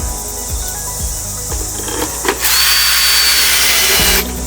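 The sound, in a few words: power drill driving screws to mount possum trap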